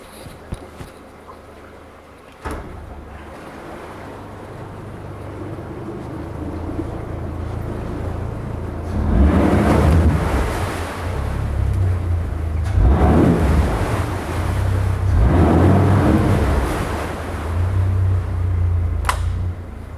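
A 2020 Yamaha 115hp VMAX SHO 1.8L outboard boat motor runs with water spraying over it, holding a steady low idle hum that swells into several louder revving surges before settling again.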